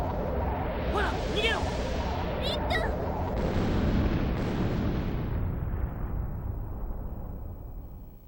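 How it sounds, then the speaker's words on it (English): Big explosion in the video game Tales of Eternia: a deep, rumbling boom with whooshing and crackling bursts that swells loudly then slowly fades over several seconds. "In a nice big explosion."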